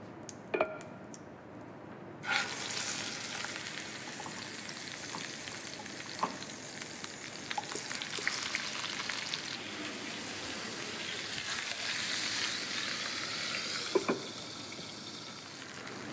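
Meat searing in olive oil with garlic and onion gives a steady, close sizzle that starts abruptly and continues with small pops and crackles, with no talking.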